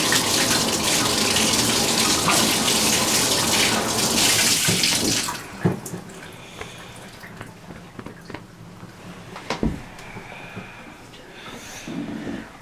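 M40 gas mask parts are rinsed under a running faucet, loud gushing water for about five seconds, then quieter sloshing, drips and handling of the pieces.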